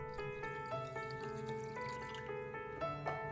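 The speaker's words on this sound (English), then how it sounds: "Then pour in 250 milliliters of water." Water pours and trickles into a saucepan holding flax seeds, with a rising, ringing tone, quiet and close, with no talking.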